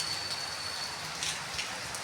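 Steady, dense hiss of heavy rain falling without pause in Bhubaneswar, India, with faint scattered drops pattering on a nearby surface.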